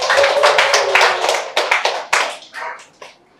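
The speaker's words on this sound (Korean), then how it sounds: "여러분 7월에 첫 출근이에요. 박수." A church congregation claps during a Sunday sermon to celebrate someone starting a civil-service job; a short burst of sharp, close handclaps from a modest group quickly breaks into separate claps and trails off.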